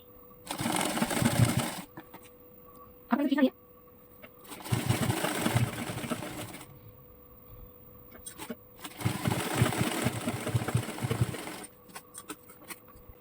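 Sewing machine stitching the hem of a ladies' designer pant bottom, running in loud bursts of a few seconds each with pauses between, plus a short sharp mechanical sound near the start.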